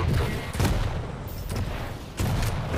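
Rapid weapon fire in the video game Quake during a 2v2 tournament match, a dense run of booming explosive shots with heavy low-end thumps, loud and continuous with brief gaps.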